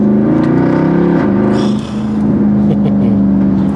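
A throaty Mercedes W204 C63 AMG V8 with a modified rear exhaust box revs and drops through downshifts, loud and close, with pops and a brief dip before pulling again.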